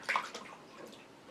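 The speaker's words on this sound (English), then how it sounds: "Pouring the water in there is actually making it the dust kick up." Water poured into a naturalistic reptile enclosure with a dusty substrate gives a short close splash followed by a faint trickling wash, quiet with no voices.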